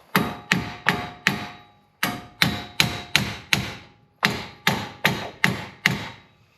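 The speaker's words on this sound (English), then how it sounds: "so I'll usually hit the back of those bolts" Hammer blows on the back of seized knuckle bolts on a 2004 Infiniti FX35 during CV axle repair: three loud, evenly spaced bursts of four or five sharp metallic strikes each, close and ringing, no talk.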